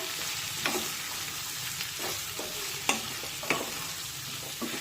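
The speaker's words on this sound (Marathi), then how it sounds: "आणि ही भेंडी 2 ते 3 मिनिटे फोडणीमध्ये छानपैकी परतून घेऊया।" Okra stir-fries in hot tempering oil for a spicy gram-flour masala dish, a continuous bright sizzle punctuated by repeated scraping strokes of a spatula, close and with no speech.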